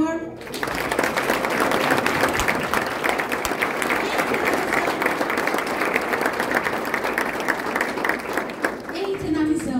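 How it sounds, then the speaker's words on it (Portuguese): A church congregation bursts into sustained applause, dense clapping from a large crowd at a steady level for several seconds and then fading out, with voices mixed into the noise. "Aplauda o Senhor."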